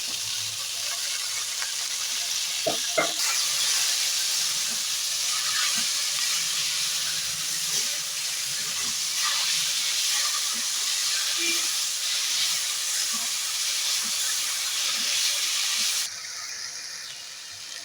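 Chopped jute leaves hit hot oil in a pan and fry with a loud, steady steamy hiss. A brief clatter comes early on, and the sizzle drops away sharply near the end.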